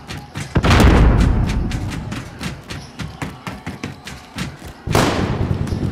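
Gunfire in a Call of Duty Warzone gulag fight on PS5: loud booming shots open the fight, followed by a rapid run of sharp, evenly spaced reports, then another heavy burst near the end.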